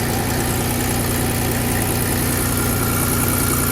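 A 2006 Chevy Equinox engine idles steadily after starting, following an EGR valve replacement, with a loud, even rumble close by, no voices.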